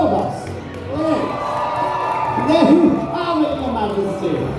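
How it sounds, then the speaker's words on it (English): Crowd cheering in the arena at a Medieval Times dinner tournament show in Lyndhurst, New Jersey, on Christmas Eve, a broad roar of voices swelling and fading over several seconds, mixed with announcer-like speech. "A mighty cheer for all of us"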